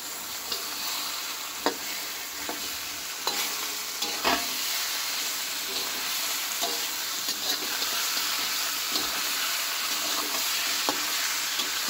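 Chicken pieces fry in a pan being cooked with whole garlic, under a steady sizzle broken by repeated scraping stirs and clacks of a utensil at irregular intervals, moderately close.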